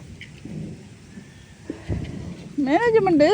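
Thunder rumbles before rain: a short, low, muffled roll in the distance, followed by a louder, wavering voice close by.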